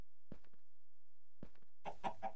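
A chicken in the video game Minecraft gives short clucks in two quick bursts separated by a pause, the second burst followed by a few higher squawks, faint and close against an otherwise quiet background.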